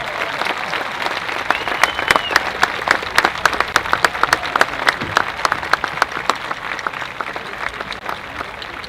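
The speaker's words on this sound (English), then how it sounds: "Let's give them all a nice round of applause." A crowd at a school district convocation claps in sustained, lively applause, with sharp individual claps standing out over the steady roar throughout.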